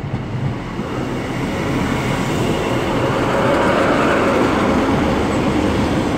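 An East Midlands train passes through Liverpool South Parkway station, a steady, loud rumble of wheels and carriages rolling past at close range for the whole stretch, with no voices over it.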